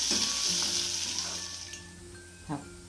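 Chopped onion drops into hot oil and fries for a capsicum dish, a loud bright sizzle that slowly fades, with a spoon clink near the end.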